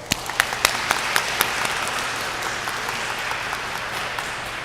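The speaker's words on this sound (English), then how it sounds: "Let's give her a round of applause." Parents at a pre-K graduation give a warm round of applause, a steady, roomy wash of clapping with a few crisp, close claps popping out at the start.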